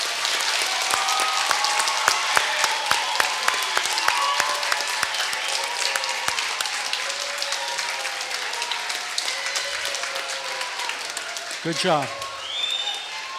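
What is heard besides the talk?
students applauding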